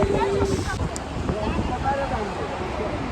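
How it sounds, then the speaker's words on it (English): Sea wind blows steadily across the microphone with a low rush at Marine Drive in Mumbai, while several voices chatter in the background nearby. "It's so windy."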